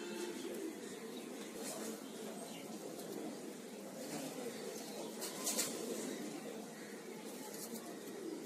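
Pigeons in a breeding room where one has laid an egg coo faintly, soft, low murmuring buried in a continuous hiss of room noise, distant and barely above the background.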